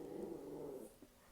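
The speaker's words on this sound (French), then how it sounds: "j'ai mon chien qui aboie" A dog vocalizes at home with a low, rumbling bark-like sound lasting most of a second, followed by a brief faint yelp; fairly quiet and somewhat distant, with no talk over it.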